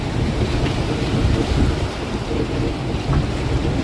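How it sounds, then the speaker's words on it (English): Strong storm wind roars around an anchored 1987 Marine Trader boat in rough waves, a loud continuous rumble with heavy buffeting on the microphone and no voices. "The waves actually look pretty nice."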